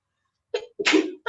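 A single sharp sneeze in a quiet classroom during an algebra lesson, a short intake burst followed by a louder explosive release, with a brief voice starting right after.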